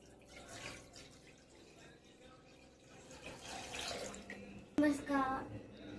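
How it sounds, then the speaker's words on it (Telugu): Water poured into a pan for tomato rasam makes a soft splashing trickle that builds toward the end, heard close while a voice talks faintly beneath it. "ఇప్పుడు కొన్ని వాటర్ వేసుకోవాలి."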